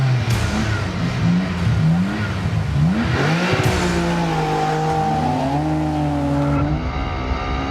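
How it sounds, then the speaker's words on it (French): A BMW M4 GT4 race car and a BMW S 1000 RR motorcycle race side by side, their engines revving hard through rising and falling gear changes, loud and close, with a brief tire squeal. "Dès le départ, la moto s'échappe."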